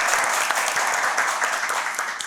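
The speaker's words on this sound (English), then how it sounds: "a round of applause for both teams for getting this far" An audience applauds both teams at the grand final of a secondary schools climate quiz, with steady, dense clapping throughout, loud and sustained.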